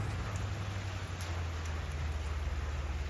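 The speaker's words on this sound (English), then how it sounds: "I came over to the window because it started pouring" Heavy rain pours outside a window in a steady, moderately quiet hiss with soft patter and a low hum underneath; no one speaks.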